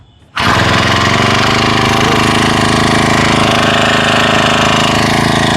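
A small portable sprayer pump engine starts abruptly and then runs loud and steady, a harsh rattling drone close by that continues without pause.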